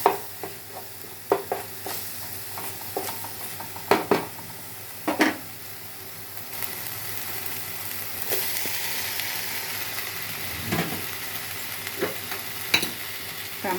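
Turmeric and ginger garlic paste frying in a pan with already-softened ingredients, a continuous sizzle broken by repeated scraping stirs and spatula taps, close and moderately loud.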